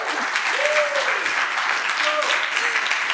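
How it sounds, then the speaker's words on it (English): An audience at a privacy talk claps steadily and fairly loudly for about three seconds, with a few voices calling out and a whistle over the crowd. "Can I have a bit of applause"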